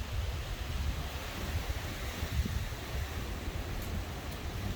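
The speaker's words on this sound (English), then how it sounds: "This wind is insane." Strong wind blows outdoors beside a bee swarm trap, a constant low roaring rush that buffets the microphone and stays loud and unbroken throughout.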